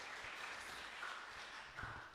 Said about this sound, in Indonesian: Boleh berikan tepuk tangan yang meriah bagi Tuhan kita Yesus Kristus